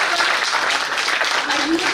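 Applause at an IEEE power electronics conference in honour of the student volunteers, a steady wash of clapping from an audience lasting the whole moment, fairly even in loudness.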